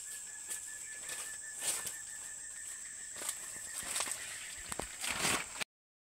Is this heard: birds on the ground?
yes